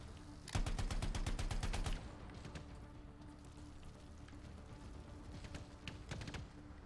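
A rapid automatic burst of gunfire from the video game Anthem rattles loudly for about a second and a half, followed by scattered quieter single shots and distant pops over a low background hum.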